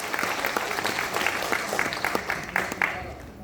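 An audience at a Hindi kavi sammelan poetry gathering claps loudly to welcome poet Dr. Anu Sapan, a dense, steady burst of many hands with a few crowd voices mixed underneath.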